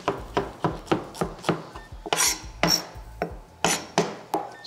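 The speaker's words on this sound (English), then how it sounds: "All I wanna do now is chop some parsley really fine." A knife chops parsley finely on a cutting board in steady, close rhythmic strokes, each a crisp thud-and-scrape, about a dozen cuts with brief pauses and no talking.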